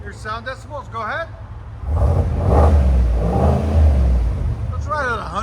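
A 2024 Cadillac Escalade 6.2L V8 with a muffler delete revs up loudly from about two seconds in, a deep sustained exhaust roar that swells and holds before easing, with people speaking briefly before and after.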